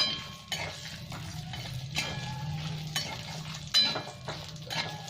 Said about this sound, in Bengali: আমি কাজু বাদাম আর কিশমিশটা দিয়ে দেবো একসাথে। একটু ভেজে নেবো